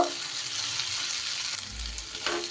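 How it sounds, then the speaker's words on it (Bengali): Kasuri methi is stirred into paneer kalia frying in a pan, a soft continuous sizzle with a scrape of the spoon and a low thump near the end. "এইবার এর ওপর থেকে দিয়ে দিচ্ছি একটু কসুরি মেথি, একটু নাড়িয়ে চাড়িয়ে দেব"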